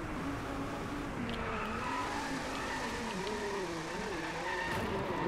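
Buggy drifting in the Drive Club racing game on PS4, a continuous engine drone with wavering pitch and tire squeal layered over it, steady and moderately loud throughout.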